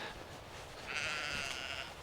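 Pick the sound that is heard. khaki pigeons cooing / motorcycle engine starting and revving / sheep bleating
sheep bleating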